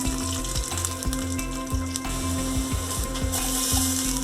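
Cumin seeds and garlic sizzle in a hot pan, giving a steady hiss and crackle alongside rhythmic clicking and rattling, close and fairly loud.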